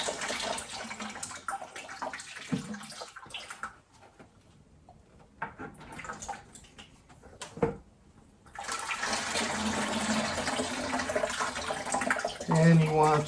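Liquid drains from the hoses of a Model T6633 Brown's gas generator into a bucket as the unit is tilted, giving a steady watery splashing and trickling that stops briefly midway, then resumes louder and continuous.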